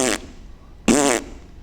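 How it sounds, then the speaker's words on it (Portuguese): A fart sound effect dropped into Portuguese-language storytelling about a fat, paunchy King Herod, two short loud bursts with a brief gap between them, the second longer and buzzier. "vivia soltando peido"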